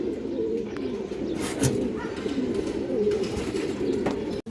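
Pigeons, including a pair of khaki-throated birds, coo steadily and close by in a continuous soft throaty rumble, with no talk over it.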